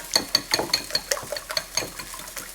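Four eggs with a pinch of salt and black pepper whisked in a bowl, a quick run of light clicking, tapping strokes against the bowl in an uneven rhythm, close and fairly quiet, with no talking.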